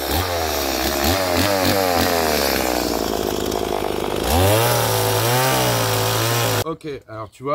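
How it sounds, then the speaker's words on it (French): A chainsaw runs in the woods during timber work for roofing, its engine loud and close, revving up and down in repeated pulls before cutting off sharply near the end. "Ok, alors tu vois, une tronçonneuse."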